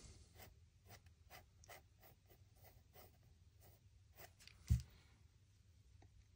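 Pencil strokes scratch across paper while a perspective sketch of the Château de Chenonceau is drawn, in a steady run of short, soft rasping strokes heard close and alone, with one brief louder knock partway through.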